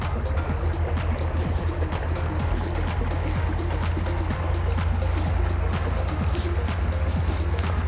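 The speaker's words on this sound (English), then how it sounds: "What's that boat?" A boat's engine drones low and steady on a river by a caravan park in midwinter, with water noise and faint voices in the background throughout.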